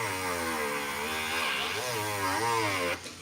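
A power drill's steady, high-pitched motor whine runs continuously, its pitch wavering slightly up and down before dropping off at the end.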